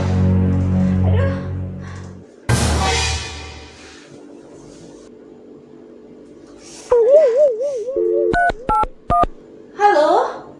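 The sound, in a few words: telephone dialing tones, calling the doctor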